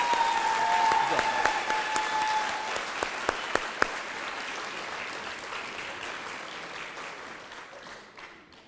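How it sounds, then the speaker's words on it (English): Graduation-ceremony applause for the Timberline High School Class of 2020, a sustained crowd clapping with a few sharp individual claps that slowly fades, with a faint cheer early on. "So I'd like to just give them a big round of applause as a class."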